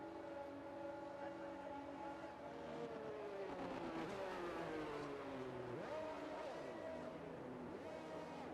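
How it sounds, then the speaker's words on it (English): Formula 1 race cars in the F1 22 video game drone back toward the grid at the Japanese Grand Prix, their engine pitches sliding and overlapping in layered whines, with one car swooping past mid-way, steady and moderately distant. "As the cars come back towards the grid to line up for the start of the race"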